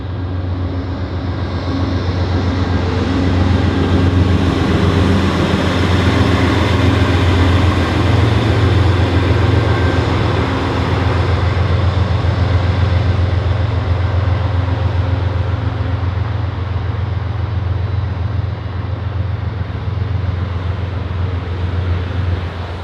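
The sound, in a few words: passenger train with diesel locomotive passing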